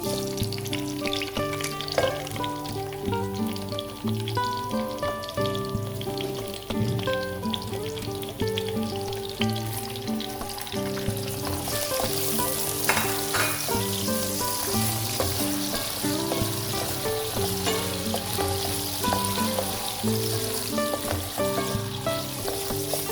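Zucchini frying in a pan gives a steady, close sizzle that runs through the whole stretch, with occasional stirring bumps and a rising hiss partway through, and no voices.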